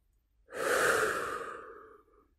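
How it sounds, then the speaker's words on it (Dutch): A single long exhalation during a guided breathing exercise, with breath drawn in through the nose and let out through the mouth, close and soft, swelling quickly and then fading over about two seconds in an otherwise quiet setting. "Uit door je mond. En nog een keer in door je neus."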